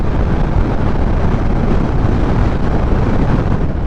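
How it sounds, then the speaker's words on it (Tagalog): Strong wind roars loudly and constantly against the microphone while riding a Suzuki Sniper 155 motorcycle at speed, a dense, unbroken rumble with no voices. "malakas yung hangin"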